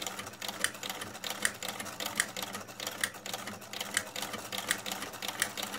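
Singer sewing machine fitted with a buttonholer attachment stitching a buttonhole, a steady rapid mechanical chatter with evenly spaced louder clicks repeating about once every 0.8 seconds, close and clear with no talking.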